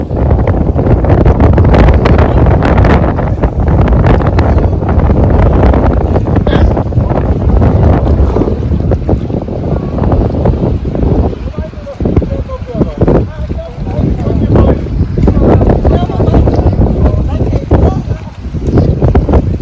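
Heavy, cold wind buffets the microphone in a constant loud roar on New Year's Eve in Germany, with gusts rising and falling throughout.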